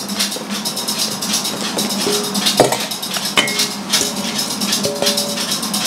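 Sugar, almond powder and eggs for marzipan are worked together by hand, giving steady close scraping and soft clinking of utensils against a bowl in a continuous rhythm, with a few sharper knocks.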